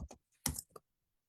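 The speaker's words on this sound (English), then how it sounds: "we're going to type in YouTube live stream" A few quick keystrokes tap on a computer keyboard, close and brief, in a near-silent room.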